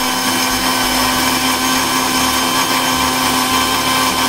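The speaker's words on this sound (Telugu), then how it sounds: "ఈ వేగించినవన్నీ కూడా సుమిత జార్లో వేసి బాగా మెత్తగా చేసుకుని" A mixer grinder jar whirs steadily, grinding roasted spices into a fine powder for stuffed brinjal curry; a loud, continuous motor drone with a strong hum runs throughout without pause or talk.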